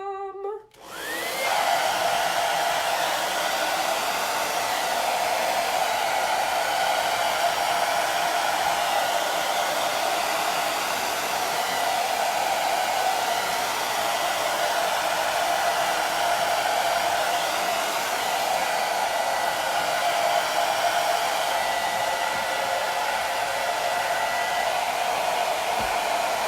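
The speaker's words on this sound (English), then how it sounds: "I got a blow dryer down here somewhere." A handheld hair dryer blows continuously at a steady pitch, loud and close, with a constant airy whoosh and hum for the whole stretch after a brief start-up.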